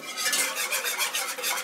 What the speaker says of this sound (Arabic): هنقعد نقلب بقى كده في اللبن،